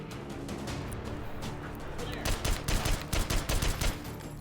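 Gunfire rattles through a shooter video game, scattered shots early, then dense bursts of rapid automatic fire crackling loudly in the second half.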